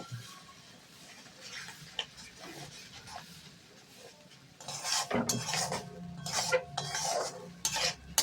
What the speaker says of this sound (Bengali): মশলাটাকে কিন্তু কষিয়ে নিচ্ছি